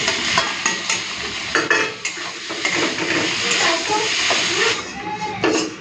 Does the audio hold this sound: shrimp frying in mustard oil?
yes